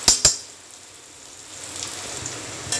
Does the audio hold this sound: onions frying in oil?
yes